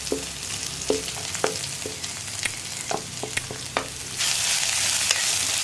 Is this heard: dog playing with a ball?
no